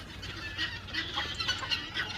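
Chickens and roosters of Sussex, Bresse and Laken breeds cluck and call softly at moderate distance, overlapping in a busy farmyard murmur.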